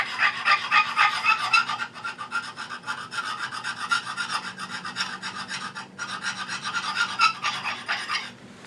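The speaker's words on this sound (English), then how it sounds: "So I'm just going to take the old burr off. See about adding a new burr." A metal file scrapes the old burr off a woodworking tool's edge in close, raspy strokes, in steady bursts with brief pauses between them and no speech.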